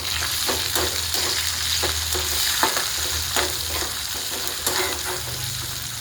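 Half a tomato drops into a pan where onion, coconut, garlic and sesame are frying for a gavar (cluster bean) curry. A loud, steady sizzle plays close up, broken by repeated scraping stirs and no voices.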